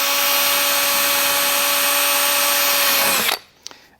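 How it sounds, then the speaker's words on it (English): A power drill bores a small hole through a vehicle's plastic fender liner, a loud steady high whine running about three seconds before cutting off sharply, followed by a couple of faint clicks. "I'm going to drill a little hole."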